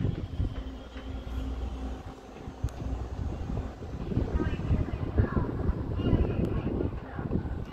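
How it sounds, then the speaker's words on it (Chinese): An EMU100 express train runs through a station, giving a broad, sustained rumble that swells over several seconds, with wind buffeting the microphone. "即将有列车通过，"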